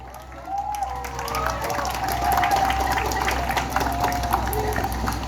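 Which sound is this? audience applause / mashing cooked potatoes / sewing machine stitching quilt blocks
audience applause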